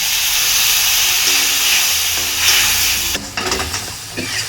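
Coriander, cumin and chili powder simmer down with a splash of water in a pan, giving a steady, close sizzling hiss that runs throughout, with a few light clatters near the end.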